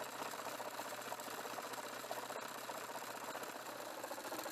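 Electric motor driving a mechanical kinetic theory simulator with polystyrene plates on a piston, giving a steady, even mechanical whir with a faint low hum throughout, no voices.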